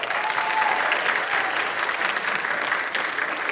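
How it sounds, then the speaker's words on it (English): Loud, sustained applause from a group at a dance class, steady and dense throughout with no gaps, as the dancers finish a march routine. "Very good, clap it up for them."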